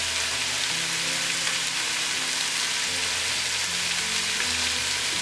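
Spices sizzle in a pan with a Ceylon cinnamon stick, cardamom and clove, a steady, close crackling fry with a faint low hum underneath and no voices.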